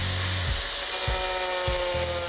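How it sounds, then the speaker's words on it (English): A thin cutoff disc cuts through the plastic stock grill of a Ram 3500, whining at a steady high pitch with a few low thumps as the cut moves along. "A thin cutoff disc makes quick work of the plastic"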